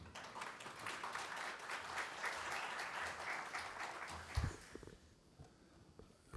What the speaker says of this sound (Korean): 여러분의 박수로 모시겠습니다